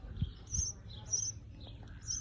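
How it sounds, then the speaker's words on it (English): Small birds chirp around a nest tucked into a sheltered spot by an Australian foreshore, giving a few faint high tweets at irregular intervals over soft background rumble. "there's so many cute birds. They've made a little nest for themselves in here"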